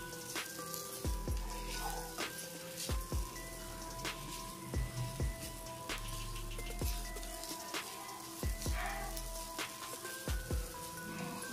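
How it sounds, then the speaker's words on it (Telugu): Chapati noodles with pepper powder frying in a pan, a faint steady sizzle with spaced, sharp utensil taps and scrapes as the mixture is stirred. "మిరియాల పొడి వేసుకొని కలుపుకోవాలి."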